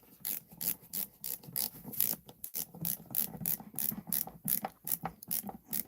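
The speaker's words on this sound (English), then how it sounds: "let's try the ratcheting screwdriver now with the 2-inch bit" A ratcheting screwdriver fitted with a 2-inch bit clicks in rapid, even bursts, the close mechanical ratchet ticks repeating steadily with no talking.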